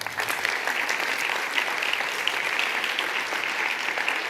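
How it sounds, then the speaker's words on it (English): An audience applauds a three-country team at the eTwinning annual conference 2025. The clapping is full and steady and holds at an even volume throughout, with no voices over it. "big round of applause then"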